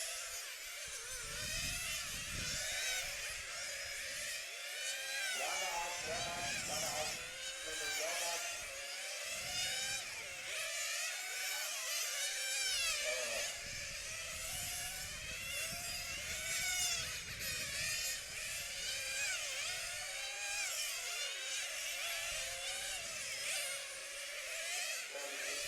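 Several 1/10 scale nitro IC RC car engines buzz and whine continuously while warming up at a race track, revving up and down in overlapping high-pitched waves, heard from a short distance.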